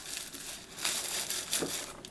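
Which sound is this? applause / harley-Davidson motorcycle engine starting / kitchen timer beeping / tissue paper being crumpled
tissue paper being crumpled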